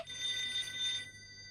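A telephone rings with a bright, electronic double-tone trill for about a second, loud and close, then stops, in a cartoon household scene.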